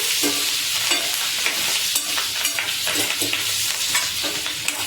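Curry leaves and green chillies frying in oil with salt and tomato pieces for guddu chamagadda pulusu, stirred in the pan: a steady, loud, close sizzle with regular scraping strokes of the spoon throughout.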